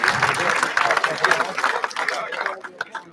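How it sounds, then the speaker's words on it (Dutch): A crowd at an outdoor festival parade applauds the brass band, a burst of clapping mixed with crowd chatter that thins out toward the end. "Mogen ik voor een hartelijk applaus."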